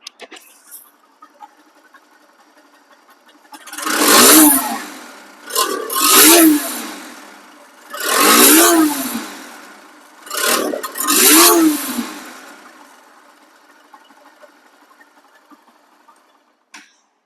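A Bajaj Pulsar NS 160 motorcycle engine, in good condition, rises in four or five loud, close revving bursts separated by brief dips back to a low idle.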